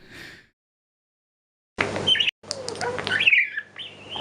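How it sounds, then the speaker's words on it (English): Parakeet calls from a recording, a short chirp, a pause, then a burst of bright chattering tweets and squawks, close and clear with no talking. "Here's parakeet sounds."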